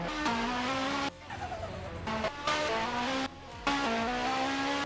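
Engine sound from a car drifting in a racing video game, with a sustained rising engine tone broken by short gaps and clear tire squeal during the slides. No voices are heard.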